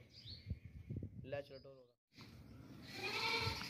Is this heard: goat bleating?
yes